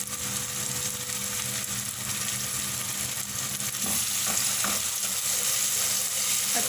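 Masala with green chili paste fries in a pan for Pakistani-style methi matar, giving a continuous close sizzle with soft scraping and stirring sounds toward the end.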